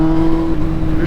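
A Kawasaki Z800 motorcycle engine, close and loud, holding a steady, rumbling idle-like drone with strong low harmonics and a slight rise at the end of about a second.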